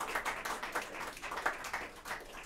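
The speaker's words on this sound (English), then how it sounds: "One more round of applause for those folks." A small audience at a holiday show claps for the performers. The clapping is faint and distant, and it comes as a thin, uneven patter of separate hand claps.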